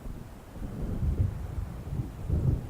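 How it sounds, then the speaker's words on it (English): Low rumbling thunder rolls through a storm in the video game Alan Wake, deep swelling booms rising and falling over steady wind and rain noise, with no voices. "It seems there's a storm coming."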